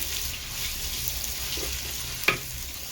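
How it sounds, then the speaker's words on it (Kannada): Onions frying in oil with curry leaves until golden brown for a curd curry, giving a steady, close sizzle with one brief clatter near the end. "ಈಗ ಈರುಳ್ಳಿ ಹಾಕೋಣ. ಈರುಳ್ಳಿನೂ ಚೆನ್ನಾಗಿ ಗೋಲ್ಡನ್ ಬ್ರೌನ್ ಆಗಲಿ."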